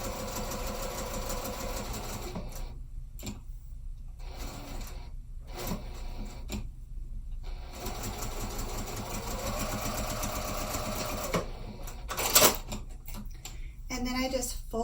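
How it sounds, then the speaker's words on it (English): Sewing machine stitching the edges of a fabric planner cover, a fast rhythmic mechanical whir in bursts separated by short pauses, close and moderately loud. "I'm just going to stitch down the open edge there and then the opposite edge to create my second little pen slip"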